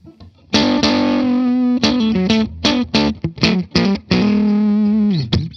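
Heavily fuzzed electric guitar through a Glut Cheeks fuzz pedal, gain maxed, plays a choppy riff, short stabs between longer held notes, ending in a downward bend.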